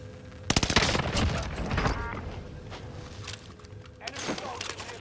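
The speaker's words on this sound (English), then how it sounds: "I'm just hearing a gunfight" Gunfight in the World War II battle royale game Warzone Pacific, with bursts of automatic and rapid gunfire cracking sharply at the start, then scattered shots and a renewed volley near the end, with talk over it.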